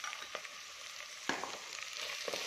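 Onions sauté in hot oil with a pinch of salt for a garlic kulambu, giving a soft continuous sizzle broken by a few sharper crackles as they are stirred.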